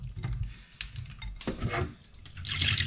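Chanterelle mushrooms being rinsed in water, with splashing and running water alongside clinks of dishes and utensils, close and steady, no talk.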